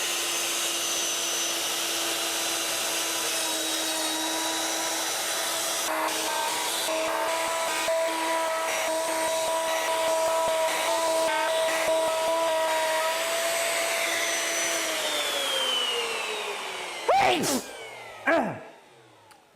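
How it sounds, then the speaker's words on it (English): A wood router cutting a series of dados for a miter and radial arm saw station gives a steady, loud high-pitched whine for about fifteen seconds, then spins down, followed by a couple of short knocks. "So now let's get to routing all of these dados."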